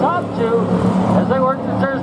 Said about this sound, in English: One of them two cars doesn't sound like it's running on all cylinders.